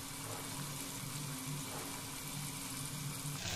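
Drumstick and mutton pieces frying for a tomato curry, a dense continuous hiss of sizzling oil, close and even in level, with no voices.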